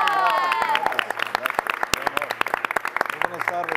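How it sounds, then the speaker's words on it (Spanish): Audience clapping to welcome a hypnotist on a live Guadalajara TV program, sharp individual claps scattered over bright cheering voices and tonal crowd shouts, close and lively with a few people calling out. "¡El aplauso!"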